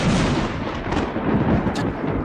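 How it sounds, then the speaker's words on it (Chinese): A deep, heavy rumble of thunder rolls continuously, loud and broad, without any voices. "师傅，这老天爷怎么一直在打雷呀？"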